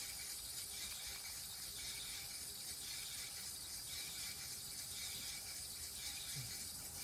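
A wood lathe turns slowly at about 200 RPM while a carbon fiber pen is buffed, giving a faint, steady mechanical whir with a light ticking texture throughout and no talking.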